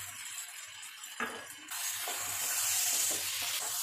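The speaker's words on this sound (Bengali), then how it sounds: "চিংড়ি মাছটা অ্যাড করার পর আরেকটু এক মিনিট মতো কষিয়ে নেব।" Jackfruit, potato and fried shrimp are stir-fried together in a pan: a soft sizzle, then a scrape and clatter about a second in, followed by a louder, steady frying hiss with light stirring noises.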